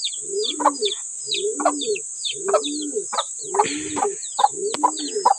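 Pigeons give a repeated series of cooing calls in a regular rhythm, close and fairly loud, over a high constant whine, with a brief rustle midway.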